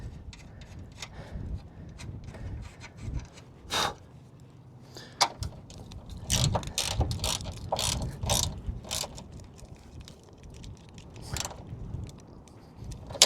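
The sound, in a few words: ratchet with 12mm socket tightening Corolla strut top nuts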